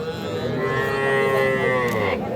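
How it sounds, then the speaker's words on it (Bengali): A four-month-old Sahiwal heifer calf gives one long, loud, drawn-out moo close by, steady and full for about two seconds. "একটা বকনা বাছুর সাইওয়ালের"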